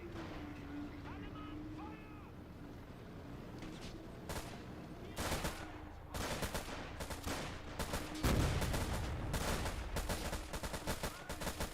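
Sniper and other gunfire crackles in a Men of War Robz Mod battle, with sharp shots and bursts growing denser in the second half over an engine rumble, while a commentator talks.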